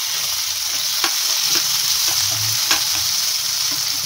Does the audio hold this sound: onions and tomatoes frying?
yes